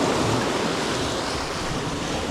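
Sea waves wash against a rocky shoreline, where the sea is running somewhat rough. The surf makes a continuous, dense roar, close and steady, with wind buffeting the microphone throughout.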